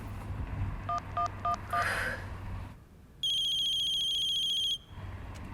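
A telephone call goes unanswered: a quick run of dialing beeps and a short electronic chirp, then a single sustained ring tone lasting about a second and a half over a low room hum.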